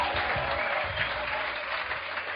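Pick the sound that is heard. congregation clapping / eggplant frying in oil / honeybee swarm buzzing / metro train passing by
congregation clapping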